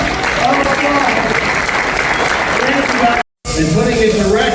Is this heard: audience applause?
yes